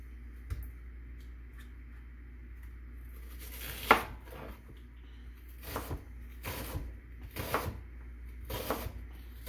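A knife cuts a peeled yellow onion on a board, a handful of sharp, separate chops spaced irregularly against a quiet kitchen background, no talking.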